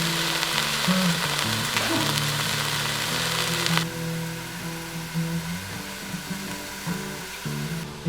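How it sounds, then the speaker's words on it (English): Meat sears in an Instant Pot with a steady close sizzle, loud and continuous throughout, easing slightly partway, no talk over it. "we're gonna let this sear on all sides for probably about 8 to 10 minutes aside"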